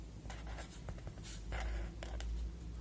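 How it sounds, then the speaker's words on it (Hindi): Pen scratching steadily across paper as a ratio is written out by hand for a class 6 maths exercise, a close, dry series of short strokes and taps with no talking. "आसिफ एंड इकबाल शेयर, वो क्या है 3:2, ये लिख दूंगी"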